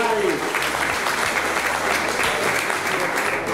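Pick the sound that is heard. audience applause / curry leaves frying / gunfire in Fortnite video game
audience applause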